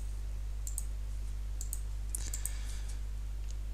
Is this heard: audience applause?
no